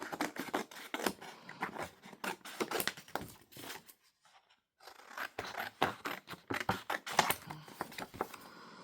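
Scissors snip around the cover of a paper envelope journal in a steady run of crisp cuts, pausing briefly midway before the snipping resumes, close and clear.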